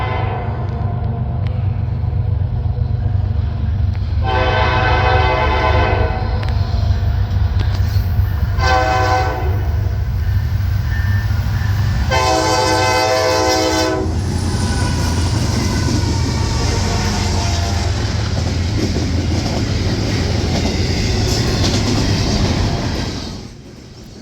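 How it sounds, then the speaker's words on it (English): A Norfolk Southern freight train rumbles steadily past nearby, its horn blaring in three long blasts over the continuous grinding of wheels and cars. "This train is anything but old. It is one of the sleekest freight trains out there."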